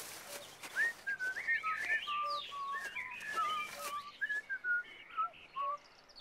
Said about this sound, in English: I can hear someone whistling,